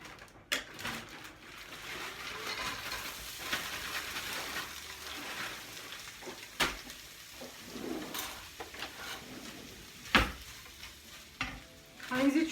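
Onion frying in a hot pan, a soft, fairly faint sizzle with occasional louder knocks and stirring clatters.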